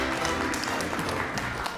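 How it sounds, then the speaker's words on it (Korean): A lecture audience claps for a cooking opera singer's story, a soft, steady wash of applause that stays even and fairly distant throughout. "이럴 때는 박수도 쳐도 괜찮아요"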